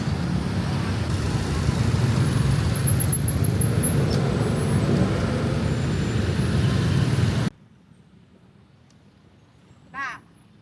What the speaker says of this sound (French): la circulation, elle est tellement dense qu'on ne peut pas traverser comme ça